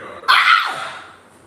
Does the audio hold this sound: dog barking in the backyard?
yes